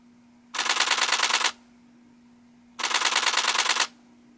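A Nikon D850 shutter fires in continuous high burst mode, two loud close bursts of about a second each, rapid even clicks around nine per second, separated by a quiet pause with a faint steady hum.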